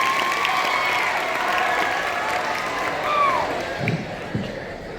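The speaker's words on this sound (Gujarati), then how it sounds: "તાળીઓથી વધાવી રહ્યું." Sustained applause from a gathered audience of students, teachers and parents at a school farewell function, a steady dense clatter of clapping that holds for several seconds before thinning toward the end.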